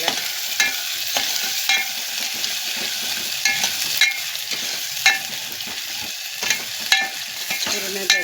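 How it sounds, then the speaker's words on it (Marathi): Chopped garlic and green chili sizzling in hot oil, a continuous bright crackle close by, broken by repeated scraping strokes of a spoon stirring the pan, with no voices. "लसूण मिरची मी चॉप करून ठेवले ती टाकणार आहे या तेलात आणि हलवून घ्यायचं आहे आपल्याला."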